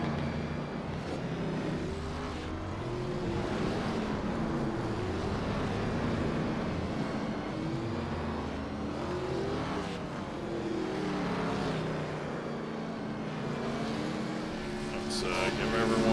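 ARCA stock car in iRacing on the Sonoma oval, engine droning and sweeping up and down in pitch as it accelerates and lifts, a steady moderately loud roar with faint voices underneath.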